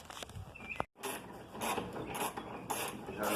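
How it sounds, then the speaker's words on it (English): A 3/8 ratchet with a 13 socket and extension turns bolts on Camaro billet rear hinges, a busy stream of close mechanical clicking and metallic scraping broken by one brief pause. "13 socket, a 3/8 ratchet, extension"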